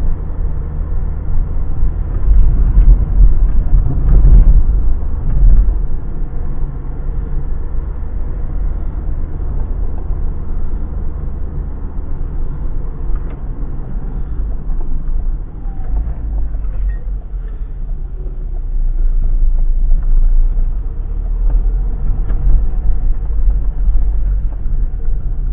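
Citroën ZX car driving on the road and accelerating, heard as a steady low engine and road rumble from inside the cabin, swelling early on and again near the end.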